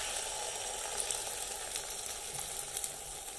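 An egg fries in hot cooking oil in a pot, giving a steady, close crackling sizzle that holds an even level throughout with no talking.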